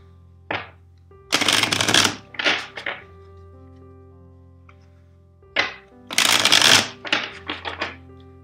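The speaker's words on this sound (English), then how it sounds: "First, let's shuffle the deck 4 times for you." Two rounds of riffle shuffling a deck of tarot cards, each a burst of rapid flapping followed by a few short taps as the deck is squared, quiet between.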